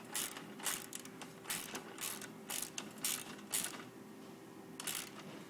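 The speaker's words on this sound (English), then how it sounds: "tighten up that nylon stop nut, 7/16 inch bolt, using an open end wrench and using a socket" Open-end wrench and socket tightening a nylon stop nut on a 7/16 inch bolt, giving a run of quick metallic ratcheting bursts in uneven rhythm, close and moderately loud with no talking.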